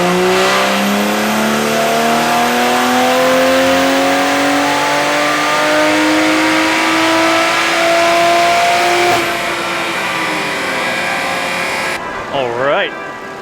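BMW B58 engine in a Toyota Supra revving hard on a dyno with an E50 ethanol blend tune, a loud rising wail that holds and climbs for about nine seconds before easing off, with a brief voice near the end.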